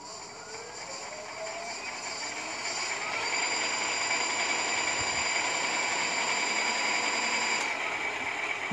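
An electric bicycle motor runs under throttle, producing a steady whine with several tonal lines that rises and strengthens over the first few seconds, then holds level and close, with no talk.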